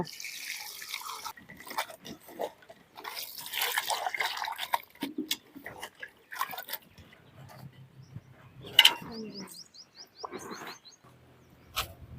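Water splashes and trickles from a tap into a vessel in a village kitchen while kuppaimeni greens are being cooked, irregular bursts with drips and clatter, and birds chirp faintly in the background.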